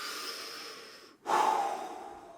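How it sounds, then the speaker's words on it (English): A full, deep breath taken during a rowing machine workout, a steady airy exhale followed by a brief pause and a stronger, louder inhale-exhale, close and alone. "full breaths, whether it's in through the nose, in through the mouth"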